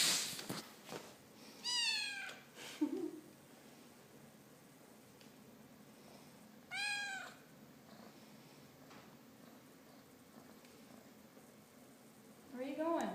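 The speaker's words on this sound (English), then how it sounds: "She's purring up a storm now." A pet cat purring steadily and softly up close, with a few meows breaking in and a voice speaking over it now and then.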